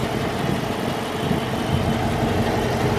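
A steady low engine idle hums continuously from a Dodge Charger R/T with 50,000 miles, with an even broadband whoosh of air conditioning blowing over it.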